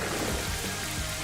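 Rain weather effect in the Pokémon Violet video game: a steady, dense patter of rainfall with soft low rumbles underneath, continuous and fairly loud, with no speech over it.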